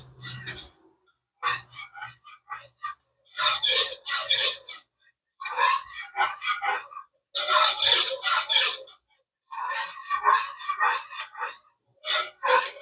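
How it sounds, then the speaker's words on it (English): A spoon stirs a sauce in a pan for potato salad, giving bursts of scraping, rasping strokes in an uneven rhythm, fairly close, with short pauses between. "Now you want to keep stirring because you don't want this to get all like it's scrambled eggs"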